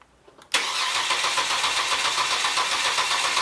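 A car engine is cranked during a starter test on a Snap-on Vantage Pro diagnostic setup: after a short quiet moment, a loud, steady, broadband churning starts and runs without a break to the end.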